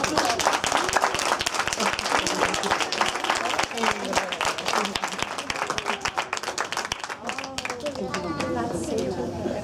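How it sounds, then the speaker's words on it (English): An audience at an English storytelling session claps throughout, a dense, steady round of applause with a voice or two speaking over it near the end. "Big round of applause."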